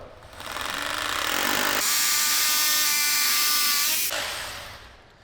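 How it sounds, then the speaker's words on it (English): SDS hammer drill in hammer mode boring into a concrete floor for a rolling bench base mount, a loud harsh continuous rattling roar that builds, holds steady, then tapers off as the bit stops. "with the drill on hammer mode, we're going to go ahead and"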